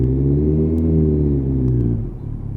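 A car engine rumbles close by as it turns around in a car park, a steady low drone with slight pitch shifts that drops off near the end.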